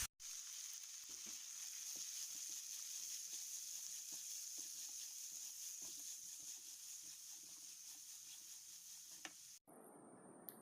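Sliced onions for masala dosa fry in a pan with a steady, fairly quiet sizzling hiss and faint stirring ticks, the sound cutting off abruptly near the end into a different, duller background.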